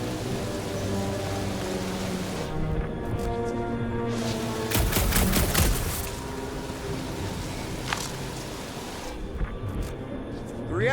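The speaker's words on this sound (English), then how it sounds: "A couple of shots should bring it down." Gunshots ring out at a gunked-up reactor in the Guardians of the Galaxy video game: a rapid burst of sharp shots mid-clip, then a lone later shot, over a steady hum of game ambience.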